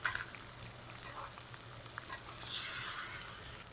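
A steak frying in a pan while melted butter is spooned over it, giving a steady, quiet sizzle and crackle with soft spoon and liquid sounds, no talking.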